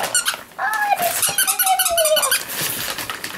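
A Blue Heeler dog tears into Christmas presents, giving several high squeaky whines and yips close by over rustling noise.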